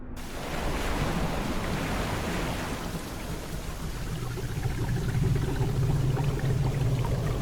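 Rushing water waves in the game Stasis: Bone Totem, a continuous roaring wash of surf with a low rumbling undertone, steady and fairly loud with no voices.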